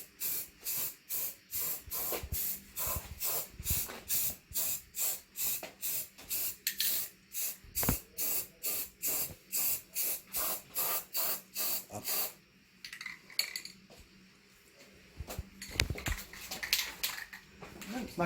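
Spray-can primer misted onto a Coleman mini bike, a rapid run of short, evenly spaced hissing bursts that shifts after a while into softer, more irregular spraying, close by with no talk.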